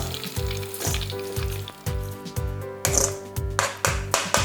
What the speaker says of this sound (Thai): เราก็เอาตัวใบผักชีแล้วก็ใบมะกรูดลงไปได้เลยครับ ผมจะทอดสักแป๊บเดียวเท่านั้นเองนะครับ